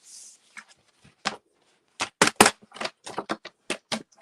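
Paper trimmer cutting a piece of cardstock, a series of sharp clicks and scraping snaps in uneven bursts, close and crisp with silence between.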